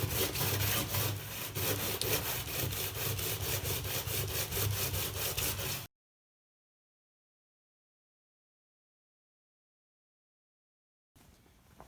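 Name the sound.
sanding block sanding down an edge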